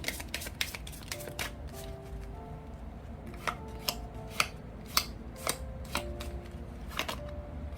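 Tarot and Lenormand cards are handled close up: a string of crisp snaps and flicks as cards are shuffled and laid down, quiet and irregular, with no speech.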